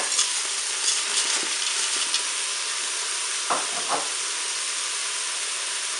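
Tomatoes and spaghetti go into a hot Cookeo multicooker pot, setting off a steady close sizzle with soft stirring clatter and a couple of brief scraping knocks.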